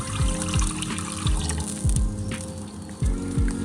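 Water pours and gurgles into a pan on an open fire up close, with bubbly glugging pulses and a rising trickle, no voices.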